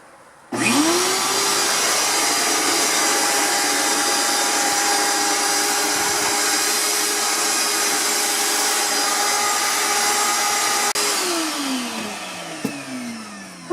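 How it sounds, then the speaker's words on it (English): A vacuum cleaner runs steadily and close by for about ten seconds while cleaning around a fridge area inside a 1974 Silver Streak trailer, then winds down at the end. "I'll vacuum out this and I'll vacuum off the back of the fridge."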